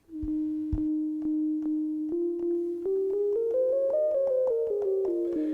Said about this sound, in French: je vais monter l'emphasis qui correspond à la résonance du filtre jusqu'à temps qu'il produise une note